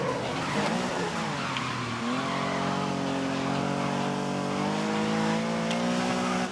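Race car in the driving game Classic GT, its engine whining loud and close with rising and falling pitch as it revs through gears, tires squealing at times under a steady roar.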